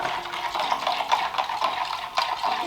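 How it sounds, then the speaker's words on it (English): A spoon stirs a honey and yeast mixture for bread dough in a bowl, giving soft repeated scraping and clinking strokes at close range with no talking. "I'm just stirring my yeasty honey business."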